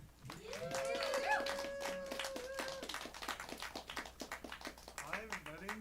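A small showroom audience claps for a performer, scattered individual claps that come in uneven bursts while voices whoop and talk over them, fairly close but not very loud.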